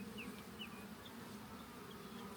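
Honey bees buzz steadily in an opened hive, a dense continuous drone close by with a few individual bees whining past, and no talking.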